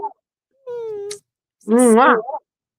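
A pet cat gives two meows, the second louder and more wavering than the first, heard close up in a quiet room.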